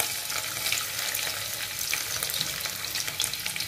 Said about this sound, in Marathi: तेल तापत आलंय. आपण प्रथम लसूण घालून घेऊया